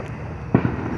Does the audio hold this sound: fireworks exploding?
yes